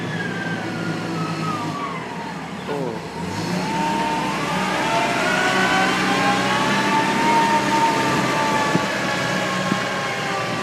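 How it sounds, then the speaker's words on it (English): A bulldozer approaching along a road on remote Aogashima island, its engine a steady, loud drone with a rising whine that swells and shifts pitch as it nears; no one speaks. "wow, there's a bulldozer coming"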